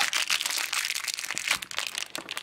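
Thin plastic bags crinkle and rustle as LOL Surprise dolls are unwrapped, with busy, close crackling that continues without pause.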